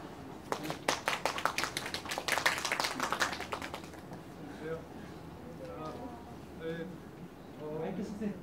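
A small audience of parents at an elementary school talk claps for a middle school teacher, with scattered, fairly close hand claps lasting about three seconds before settling into quieter room noise and speech.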